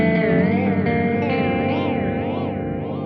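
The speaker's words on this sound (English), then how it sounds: "Now if I dial this up, we'll hear some real serious pitch oscillation." Electric guitar run through a Universal Audio SDD-3000 delay with heavy pitch-oscillation modulation, sustained notes warbling and wavering in a steady wobble, loud and continuous with echo and chorus-like shimmer, no talking.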